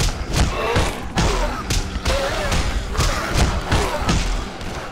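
Melee blows land on a zombie in the co-op game Dead Island, a run of heavy, close thuds at a steady, uneven rhythm under dense game noise, with voices faintly mixed in.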